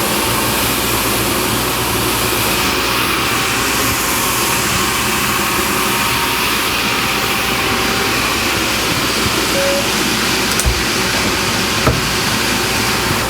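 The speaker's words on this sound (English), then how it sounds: "Tony, let's turn on the shaker." An electric vibration shaker running, shaking a box at light intensity, giving a steady, loud droning hum with a continuous mechanical buzz and a couple of brief clicks near the end.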